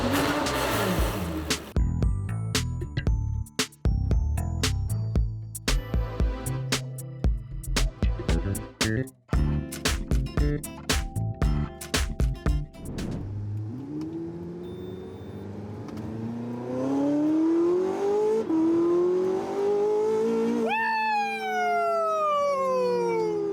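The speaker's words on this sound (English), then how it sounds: "So this one is the loudest Porsche 918 in the world." A Porsche 918 Spyder with straight pipes revs hard and close, first in a dense, choppy burst of blips, then in long, rising wails that climb repeatedly toward a high-pitched scream.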